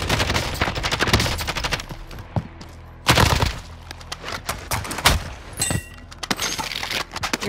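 Rapid bursts of automatic gunfire in the video game Warzone, loud and close, with repeated rattling volleys and brief pauses between them.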